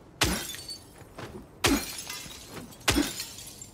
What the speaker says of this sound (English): Did I just break all the windows for no reason?